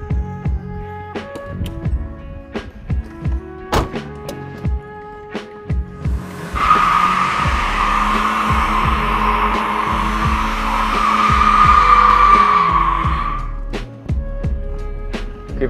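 After scattered clicks and low engine rumble, a car breaks into a burnout, its tires squealing loudly and steadily for about seven seconds over a revving engine before cutting off.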